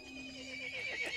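A horse whinnies in the video game Resident Evil Village, a shrill rising and falling neigh over a steady tonal background, close and fairly loud.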